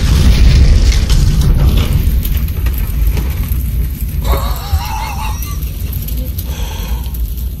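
A grenade blast in a shooter video game: a heavy, loud boom opens, then a long rumbling roar tails off with scattered crackling and faint warbling tones, and no voices.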